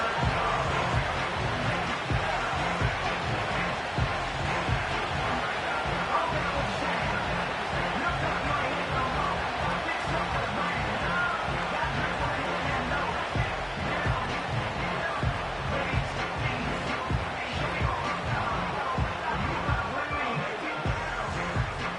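A stadium crowd in an EA Sports football video game keeps up a loud, continuous roar and cheer for more than twenty seconds, with commentary voices running over it.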